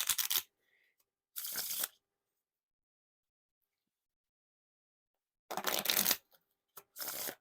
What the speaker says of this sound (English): these cards feel really thick when you're doing this bridge shuffle.